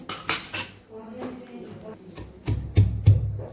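Two cloves and a piece of cinnamon are pounded by hand in a mortar, giving uneven, knocking strikes with a few heavier thuds near the end, close and fairly loud.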